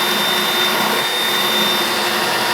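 Cheap Dremel-style rotary tool cutting into a plastic car bumper for a front-mount intercooler fitment, a loud steady high-pitched whine that holds constant throughout with no talking.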